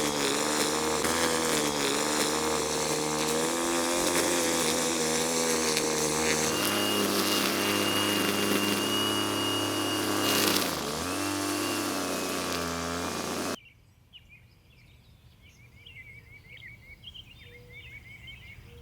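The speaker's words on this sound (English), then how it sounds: "I'm going to get the strimmer out and give this a trim because it's quite hairy." A strimmer trimming lawn edges, loud steady engine whine with a buzzing line that shifts pitch as it cuts, then cutting off abruptly to a much quieter background.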